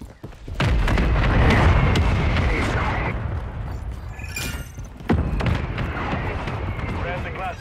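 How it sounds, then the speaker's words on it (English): Friendly mortar strike explosions in Call of Duty MW3 land as a heavy booming barrage right away, followed by a second sharp blast about five seconds in, with game noise and a voice talking over them. "Friendly mortar strike is on the way."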